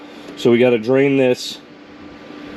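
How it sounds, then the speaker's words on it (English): A steady fan hum with broadband whooshing runs throughout, partly under someone speaking briefly up close. "Sorry about the fan in the background."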